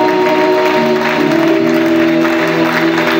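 A congregation at a Bible seminar claps and cheers in a steady, loud, dense wave of applause that lasts throughout, with sustained tones from music or a voice running underneath.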